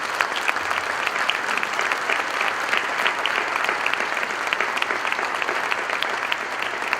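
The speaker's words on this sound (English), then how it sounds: "especially last year's seniors, a round of applause." Sustained audience applause fills a school wind ensemble winter concert, a dense, steady clatter of many hands clapping for several seconds with no break.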